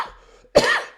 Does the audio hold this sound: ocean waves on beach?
no